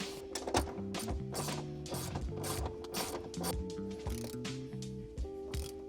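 Seat cover pieces are fastened into a Dodge Challenger SRT performance seat, giving a close run of irregular clicks, snaps and ratchety rattles with a faint tonal hum in the background.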